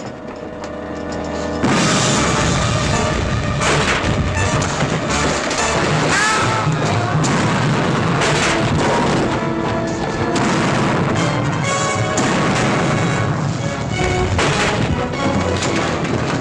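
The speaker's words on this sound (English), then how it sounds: "Prepare for broadside! Fire as you bear!" A ship's cannons fire a broadside in a pirate film battle: dense, continuous booming and crashing that stays loud and heavy from start to finish after a quieter opening moment, layered with music and battle noise.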